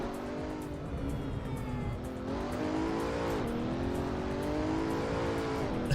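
A hypercar engine in Assetto Corsa roars loudly and continuously at speed, its pitch climbing and dropping with the gears, with faint tyre noise underneath.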